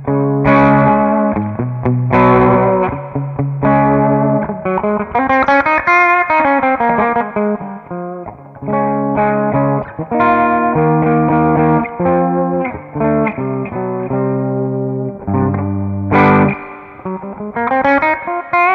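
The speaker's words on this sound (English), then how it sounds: "And here's the Tube Screamer part of it." Electric guitar played through a Greenchild K-818 Klon/TS-808-style overdrive pedal in its Tube Screamer mode, giving loud, continuous overdriven chords and melodic runs with sustained notes and no talking.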